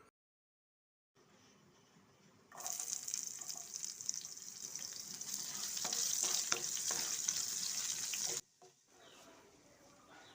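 Sliced shallots drop into hot oil with golden urad dal and mustard seeds, bursting into a loud, steady sizzle that swells for several seconds with faint stirring clicks, then cuts off abruptly into quiet.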